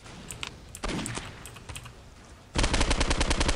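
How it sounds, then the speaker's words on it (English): Rapid automatic gunfire in a video game, scattered single shots at first, then a dense, loud burst of closely spaced rounds at the end. "Why are you shooting me?"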